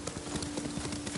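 A horse's hooves clip-clop at a steady riding gait in Ghost of Tsushima, moderately quiet and continuous under a low wash of ambient noise, with no talking.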